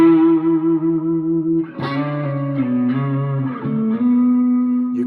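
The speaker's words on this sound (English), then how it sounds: "Then you want to use the whammy bar." An effected electric guitar holds sustained notes bent up and down with the whammy bar, smooth and resonant with a touch of distortion.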